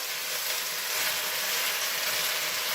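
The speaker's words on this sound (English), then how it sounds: "So now I'm going to go ahead and add the tomatoes." Drained, diced tomatoes hit a hot pan with green beans, setting off a loud, steady broadband sizzle that holds evenly and close throughout with no talking.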